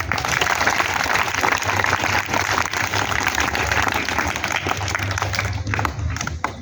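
Audience at a school session clapping for students after their scores are read out, a steady, dense wash of many hands with some crowd noise underneath, sustained at an even level throughout.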